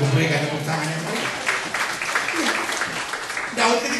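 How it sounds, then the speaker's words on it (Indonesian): Applause from a church congregation, a dense wash of clapping that swells and continues for several seconds, fairly loud and close, with a voice briefly heard over it near the start. "Berikan tepuk tangan yang baik."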